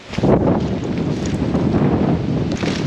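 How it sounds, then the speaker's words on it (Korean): Strong wind roars across a rocky mountain ridge on Seokmodo's Haemyeongsan, a loud, continuous buffeting rush with gusty swells, close to the microphone and without voices. "아 오랜만에 바람 세게 부는 날"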